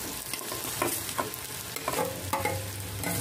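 Onions frying with turmeric as mashed potatoes are stirred through them on a tawa, a steady close sizzle punctuated by soft scraping strokes of the spoon, with no voices.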